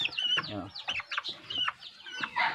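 Several short, throaty chicken clucks in an uneven rhythm, fairly close, with some rustling in between.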